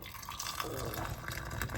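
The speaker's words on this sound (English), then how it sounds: "So here, the boiled water, I'm gonna fill it up." Steady splashing of boiled water poured into a glass over an egg, a continuous liquid rush with a faint bubbling fill, close by and uninterrupted.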